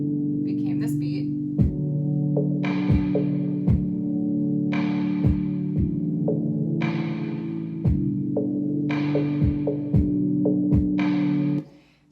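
A filtered drum beat drenched in Valhalla room reverb plays as a low, muffled loop, with regular thumping hits and bright swelling tails over a sustained hum, ending abruptly.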